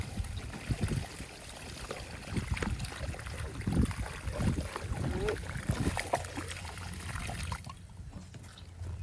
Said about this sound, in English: And then I give this another rinse.